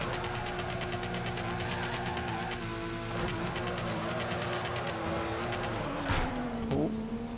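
Car engine in the racing game Torque Drift, revving steadily and loud throughout with a constant droning tone, a brief tire squeal or shift near the end.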